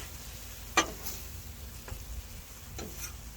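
A spoon stirs a sloppy Joe mixture of Worcestershire sauce, A1 and sweet hot mustard, giving a few soft, wet scrapes and taps at irregular intervals, quiet and close.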